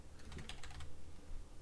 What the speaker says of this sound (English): I thought I was typing in the sheet